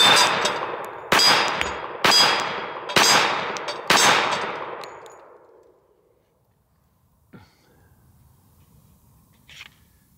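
A handgun fires reloaded .45 ACP rounds at a range, five loud sharp shots about one second apart with ringing decay, followed by quiet and a couple of faint clicks.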